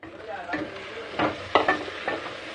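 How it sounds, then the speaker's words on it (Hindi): Salted onions fry in a pan for a mutton curry, with a close, steady sizzle and several scraping stir strokes, and no talking. "देखिए 5 मिनट हमने भूंजा है और इसे 5 मिनट और भूंजेंगे"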